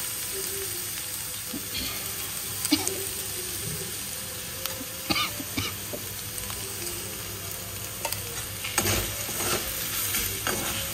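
Spoon stirring paneer and sattu filling in a hot pan, with a soft steady sizzle and intermittent scrapes and taps against the metal, moderately quiet with no talk.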